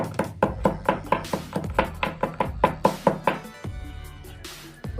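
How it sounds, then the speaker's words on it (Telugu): Fenugreek seeds are pounded to powder in quick, regular heavy thuds, about a dozen close knocks in a steady rhythm that stop near the end, leaving a faint ringing. "మెంతులు మెత్తగా దంచుకోవాలి"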